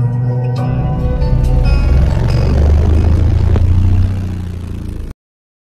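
A 2005 Chevy Silverado pickup engine rumbles loudly and steadily up close, surging a little before fading and cutting off abruptly.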